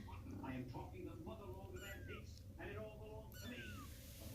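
Several small Siamese kittens meow in high, overlapping cries, close and repeated, with a person's voice talking quietly beneath them.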